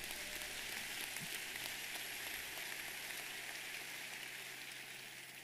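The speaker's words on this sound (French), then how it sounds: "acclamez très fort le Seigneur" A church congregation at a David Oyedepo sermon applauds, a dense, steady, rain-like wash of clapping heard at a distance that stays even throughout and thins slightly toward the end.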